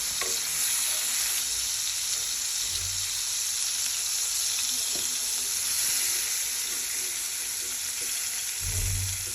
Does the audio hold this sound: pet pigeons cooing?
no